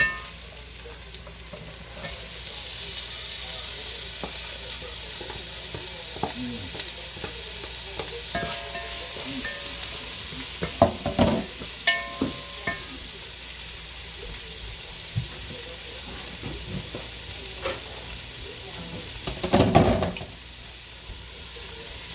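Onion sizzles steadily in a hot pan while a utensil stirs it, with irregular scraping and clattering strokes, louder bursts around the middle and near the end, close and alone.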